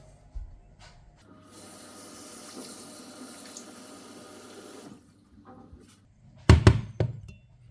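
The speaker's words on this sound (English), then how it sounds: "put some water in it" Water runs steadily into a pot holding cut pork belly for several seconds, a soft continuous rush, followed by a few sharp clanks and knocks of cookware.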